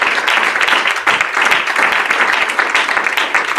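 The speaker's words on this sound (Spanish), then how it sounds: "Démosle un aplauso fuerte al Señor." A church congregation applauds loudly and continuously for its full length, a dense wash of many hands clapping close by.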